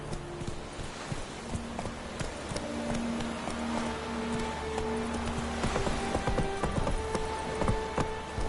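Hooves of the horse Roach clop in a quick, steady galloping rhythm in a video game, close and continuous, mixed with faint tonal game sounds.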